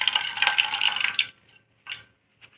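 Water poured from a container onto washed greens being prepared for juicing, a splashing pour for about a second followed by two short trickles.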